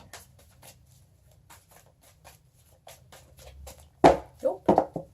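Tarot cards are shuffled loosely by hand in a quiet room, a run of soft, quick riffling taps that ends in several louder shuffling bursts close to the microphone.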